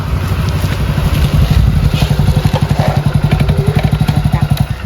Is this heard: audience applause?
no